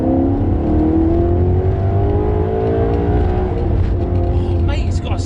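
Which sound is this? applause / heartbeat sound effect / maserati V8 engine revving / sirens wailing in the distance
maserati V8 engine revving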